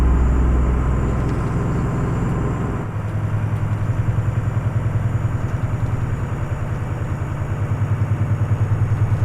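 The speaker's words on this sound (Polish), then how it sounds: "I znowu nam silnik strasznie turkocze." An Italian V8 truck engine in Euro Truck Simulator 2 idles with a steady, close, low rattling throb that shifts to a slightly different pulse partway through, with no talk over it.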